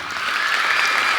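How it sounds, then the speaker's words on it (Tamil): Loud, dense applause from an audience at a New Year 2026 stage event, sustained clapping filling the space evenly with no break. "இங்கே இருக்க எல்லாருக்காக ஒரு பெரிய கைத்தட்டல்."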